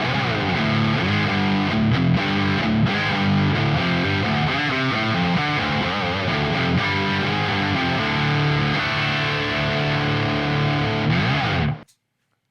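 A distorted electric guitar, a Gibson Les Paul Standard 60s on a warm, thick neck-pickup tone, plays chords and riffs for several seconds, then cuts off abruptly.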